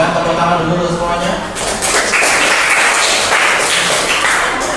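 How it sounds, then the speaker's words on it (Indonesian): Classroom applause after group presentations, a dense burst of clapping from many students that follows a short stretch of talk and carries on steadily to the end. "Tepuk tangan dulu untuk semuanya."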